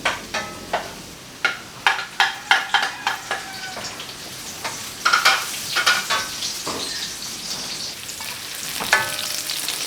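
Onion, garlic and beef bones being sautéed in a pan for sopas, with scattered sharp crackles and sizzling pops, some clustered in quick bursts, over a steady faint hiss.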